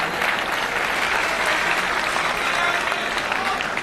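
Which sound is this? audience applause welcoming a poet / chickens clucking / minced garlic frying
audience applause welcoming a poet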